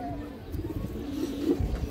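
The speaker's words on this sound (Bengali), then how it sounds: "এই দেখেন খুবই সুন্দর নর কবুতর," A male pigeon coos in low, soft, rolling tones, faint against a murky background of indistinct room noise.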